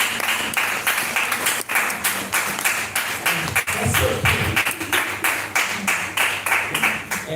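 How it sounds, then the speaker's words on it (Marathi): A church congregation claps loudly and steadily in thanks to God, a dense rhythmic applause that carries on throughout with faint voices beneath it. "आपण जोरदार टाळ्या वाजवून देवाचे आभार तुमच्या जीवनासाठी."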